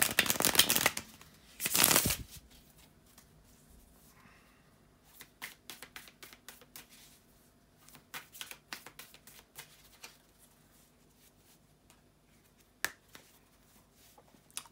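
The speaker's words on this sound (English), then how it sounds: "to do the shuffling of the cards" A deck of tarot cards is shuffled close by, starting with two loud riffling bursts, then a long stretch of quieter, irregular card flicks and taps.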